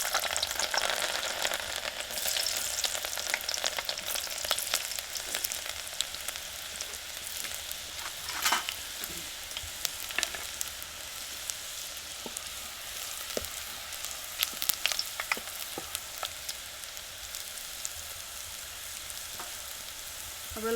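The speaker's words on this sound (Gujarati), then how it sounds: "હવે આપણે તેલ ગરમ થઈ ગયું છે. આ લસણના કટકા નાખી દઈ." Garlic pieces frying in hot oil, the first step of a Gujarati methi bhaji. A long, steady crackling sizzle runs throughout, with scattered sharp pops, fairly quiet and without any voices.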